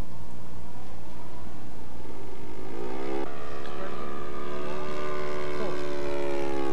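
A radio-controlled model airplane engine drones through an F3A competition maneuver, its pitch rising and falling as the throttle is eased back, fairly loud and continuous.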